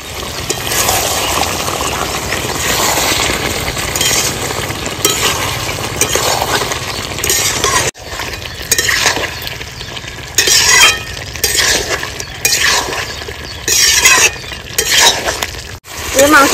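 Sliced onions and green chillies sizzle loudly in a hot pan while a spatula scrapes and clinks steadily against the metal, a close, continuous fry with brief pauses in a village kitchen.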